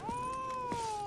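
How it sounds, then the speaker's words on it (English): A cat meows once in The Witcher 3: Wild Hunt, a single drawn-out, clear mew that holds steady and then falls slightly at the end, heard close and alone without any talk. "cat"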